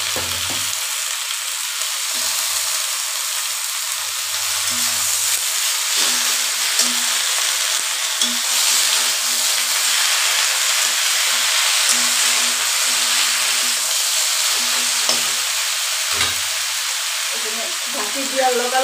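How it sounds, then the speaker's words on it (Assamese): Spinach sizzling loudly in a hot pan while fish tenga is cooked, a continuous dense frying hiss with faint low voice sounds underneath. "এতিয়া মই এই পালং শাকখিনি ইয়াতে ঢালি দিম"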